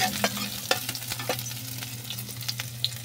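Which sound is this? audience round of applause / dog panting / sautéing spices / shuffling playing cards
sautéing spices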